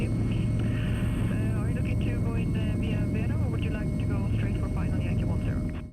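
A Royal Navy Commando Wildcat military helicopter flies in the Arctic, its loud continuous turbine whine and rotor roar steady throughout while someone talks over it.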